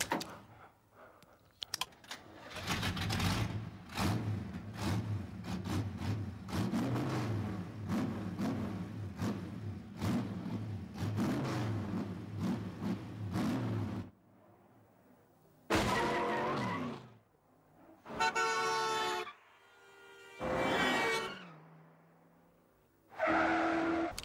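A 1971 Chrysler Charger race car rumbles loudly for about fourteen seconds, then fires up in several short bursts of revving separated by brief pauses.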